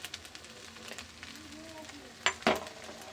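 Spices sizzle softly in a pan for a Bengali winter-vegetable khichdi, with Kashmiri chilli and turmeric among them: a low, steady frying hiss, then two sharp utensil knocks against the pan near the end.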